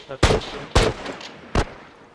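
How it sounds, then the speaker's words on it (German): Three sharp, loud gunshots ring out in The Last of Us multiplayer, two close together and a third after a short pause. "Lauft euch nicht gegenseitig durch die Schüsse"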